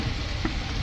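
Tomatoes sauté in a pan for sambar, giving a brief, steady, soft sizzle with no voices.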